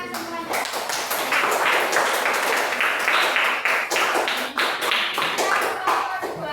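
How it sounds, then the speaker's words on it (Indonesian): Students in a classroom clap their hands together after a group presentation, producing dense, close, continuous clapping with a few sharper taps throughout. "Tepuk tangan semuanya."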